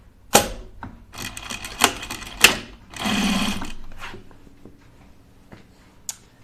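An overlock serger stitching a sweatshirt garment runs in short bursts with sharp clacks and one sustained whirring run, close and fairly loud, with no talking.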